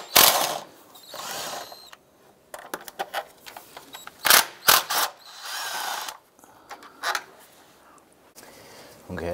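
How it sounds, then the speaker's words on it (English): A ratchet works loose two 10 mm bolts on a Chevrolet Colorado engine bay, with bursts of rapid clicking and mechanical rattles that start and stop irregularly, plus brief clunks and pauses in between. "Remove these two 10 millimeter bolts."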